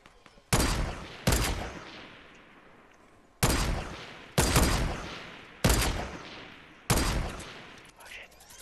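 Fortnite gunfire in bursts of loud, sharp shots: two close together, a pause, then four more spaced blasts, each trailing off in a long echoing decay.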